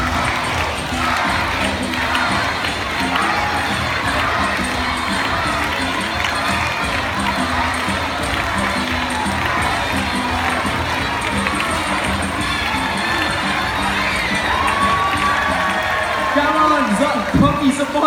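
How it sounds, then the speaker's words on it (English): A live crowd at a bird show cheers loudly and continuously, with children shouting and whooping mixed into a dense, sustained roar and a voice breaking through near the end. "I think you need to cheer louder for the birds"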